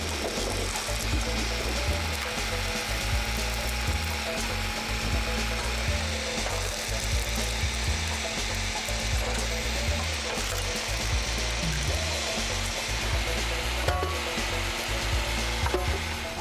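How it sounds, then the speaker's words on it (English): A homemade firewood processing machine with a multi-blade sawing unit saws and splits logs, giving a loud, continuous mechanical grind with a steady low pulsing throb and no talk. "this machine can split a log into many pieces with just one cut"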